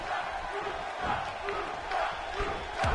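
Arena crowd roaring and cheering at a wrestling match in the WWE 2K17 video game, a dense continuous wash of noise with swelling surges throughout.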